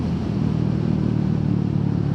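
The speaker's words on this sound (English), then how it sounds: "Can you hear the exhaust when I shut off?" A Royal Enfield Meteor 350 motorcycle on an open country road rumbles steadily at close range with a low, even exhaust burble as the throttle is shut off, and no talk is heard.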